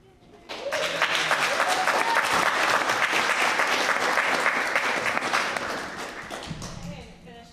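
An audience at a college alumni event bursts into sustained applause, dense clapping that starts abruptly, holds steady for several seconds, then tapers off.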